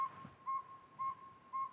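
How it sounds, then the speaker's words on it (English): A northern saw-whet owl calls in the afternoon, giving three or four evenly spaced, clear single whistled toots at a steady rhythm, moderately distant over a faint background hiss. "There's a northern saw-whet owl calling,"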